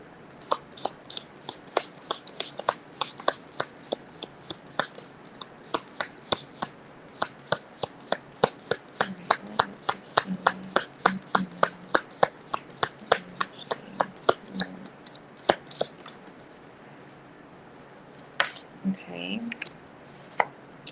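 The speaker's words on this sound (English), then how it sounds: "I'm gonna shuffle" Tarot cards being shuffled by hand: a long run of crisp, rapid clicks and riffles, close and fairly steady, with a faint murmur of talk underneath.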